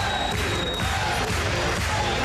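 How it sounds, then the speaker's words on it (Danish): A dense arena crowd claps and cheers around the ring at a professional boxing bout in Denmark, Robert Guerrero against Spend Abazi. The roar is steady and loud for the whole short stretch, with no distinct voices. "Klapsalverne ryger ned over ringen."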